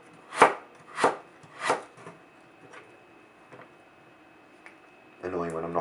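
Knife chopping turnip for jam: three firm, close chops in a steady rhythm, then a few fainter taps, before a voice begins talking at the very end.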